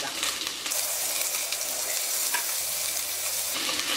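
Dried red chillies, curry leaves and garlic sizzle loudly in hot oil for tomato rice, a dense crackling hiss close by with a few stirring knocks.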